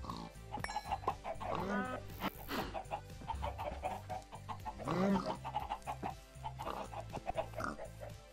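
Chickens in a Minecraft farm cluck repeatedly in short, close bursts alongside grunting farm animals, with a person talking over them throughout.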